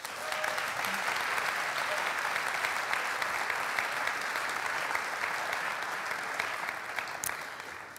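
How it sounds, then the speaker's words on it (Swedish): A church congregation at a youth gathering gives sustained, even applause, a dense hiss of many hands clapping at moderate distance that holds steady and dips slightly at the end. "Ge Sara en stor applåd"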